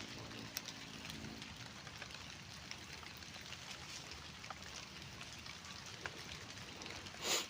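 Steady light rain patters softly and evenly on a corn field during fertilizing, with faint scattered drips and a brief rustle near the end; no one speaks.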